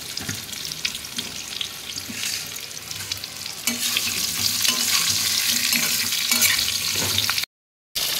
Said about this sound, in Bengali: কড়াইতে মাছ ঝোলের আলুগুলো একটু ভেজে নিই, কড়াই তেল রয়ে গেছে।